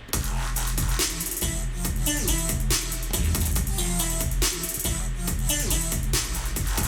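An electronic music drop built from a looped drum pattern with heavily saturated 808 drums, dense and loud throughout, booming low end under busy synth layers, no voices.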